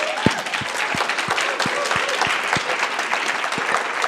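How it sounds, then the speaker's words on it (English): An audience applauds panelists after a panel discussion, clapping steadily for several seconds, dense clapping with a few sharper individual claps standing out, fairly close and sustained. "Can we give them a quick round of applause?"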